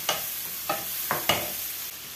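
Mushrooms sizzle steadily in a pot while a spoon stirs them in four distinct scraping strokes, close and clear, with the hiss continuing between each stir.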